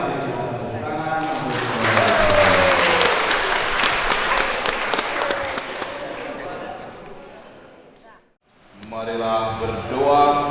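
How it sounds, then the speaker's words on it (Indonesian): Wedding guests applaud together at a church ceremony, a sustained, dense wash of clapping that swells, fades into a brief lull, then a voice speaks near the end. "Mari kita tepuk tangan."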